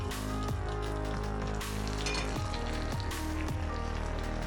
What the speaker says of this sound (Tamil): இப்போ நம்ம மறுபடியும் ஒரு ஃப்ரை பண்ணோம்னா இன்னுமே கிறிஸ்பியாக நல்லாயிருக்கும்.